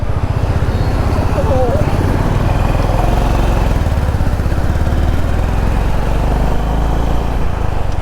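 A motorcycle, just back from a service centre with new alloy wheels, runs steadily while being ridden. The engine makes a loud, continuous pulsing drone that stays close throughout.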